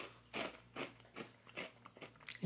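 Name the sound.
biting and crunching Honey Nut Cheerios cereal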